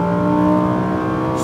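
A Lamborghini Huracán STO at full throttle on a race track, its engine holding a loud, steady high-pitched howl with strong harmonic tone, close and continuous.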